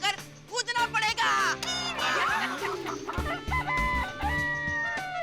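A man mimics a rooster crowing, a loud, warbling cock-a-doodle-doo imitation with clucking rhythm, close up, amid music and other voices talking around him.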